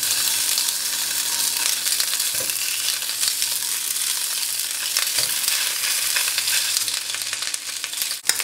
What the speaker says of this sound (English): Without any oil, we are going to put the morcilla on the pan.